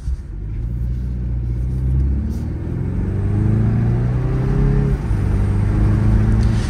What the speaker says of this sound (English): a little bit of the blow off from the turbos while you're going through the gears, accelerating